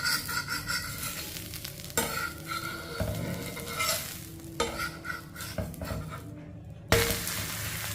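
A weight loss dosa is flipped on a pan and sizzles in ghee over medium heat. A soft continuous fry hiss runs underneath close scraping and clinking from the spatula against the pan, with no talk.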